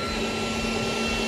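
Leaf blower from Action running steadily, a loud close motor whine with a constant steady tone and airy rush that does not vary, with no voices over it.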